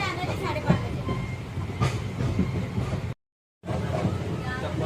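Steady rumble of a train rolling along the tracks with a brief dropout near the end, plus faint voices mixed into the carriage noise.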